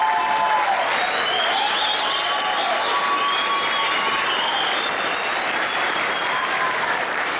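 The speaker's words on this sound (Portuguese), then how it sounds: "um salve de palmas para o Armindo." Sustained applause from a large crowd at the closing celebration of a national church brass choir gathering, steady and dense clapping throughout with no pauses.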